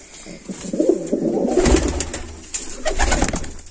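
Pigeons from a flock of about seventy-five kept birds coo continuously at close range, with soft, repeated throaty calls overlapping in a low, steady murmur and no talk.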